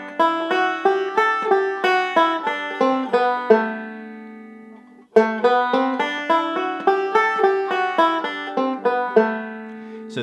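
Banjo picking the A Dorian scale in a melodic style, bright plucked notes rising and falling in a steady run, played twice with a brief pause between, alone and close.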